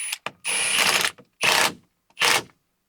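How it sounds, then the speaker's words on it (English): An impact wrench tightens the large central nut on the steering column of an older Chevy or GMC truck. It fires in three loud, close bursts: a long one and then two shorter ones, separated by brief silences. "So just hand tighten it, and then you can come in with your impact."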